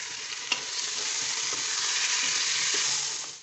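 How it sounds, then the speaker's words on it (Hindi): Meat (gosht) sizzles steadily as it fries in a pan for bhuna gosht, with a brief stirring scrape near the start, a close continuous frying hiss with no talk. "और अब मैं इसमें ये गोश्त शामिल करूँगी।"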